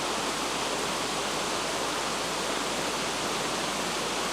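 Steady rushing water, like a stream or small waterfall, pours continuously at even loudness throughout, with no voices and no change in intensity.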